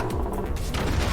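A very heavy cannon blows up a base in the physics strategy video game Forts, a dense, rumbling burst of booming crashes filling the whole short moment.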